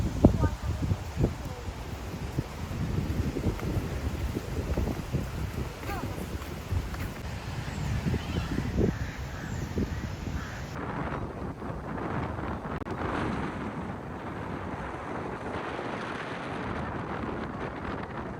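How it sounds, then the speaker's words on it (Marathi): Strong wind buffets the microphone at the seaside Rock Garden in Malvan, a constant blustery roar with rustling gusts while a person talks over it. "ते इतका वारा आहे"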